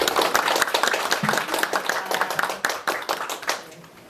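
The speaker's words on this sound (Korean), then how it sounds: "그럼 오늘의 강연자이신 강진아 작가님을 따뜻한 박수로 맞이해 주시기 바랍니다" A small audience at a discussion forum on inequality claps to welcome author Kang Jin-a: a burst of close, individually distinct hand claps that thins out and fades away over a few seconds.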